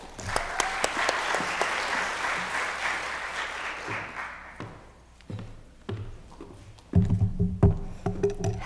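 A lecture audience at a fashion studies talk claps warmly for an arriving speaker, a full burst of applause that fades after a few seconds into scattered claps, thumps and footsteps at the podium.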